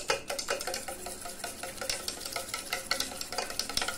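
Cake batter of sugar and oil is beaten in a bowl, rapid rhythmic whisking clatter, close and continuous, with a wet frying-like texture.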